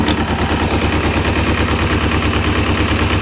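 A restored motorcycle engine runs steadily with the clutch pulled, giving a continuous close-up mechanical clatter and rapid rhythmic ticking that holds even and loud throughout.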